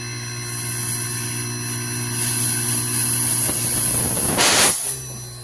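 An inverter air conditioner compressor spins up on a test setup, a steady electrical hum with tones rising as speed increases, loud and close, ending in a brief surge of noise before it cuts back.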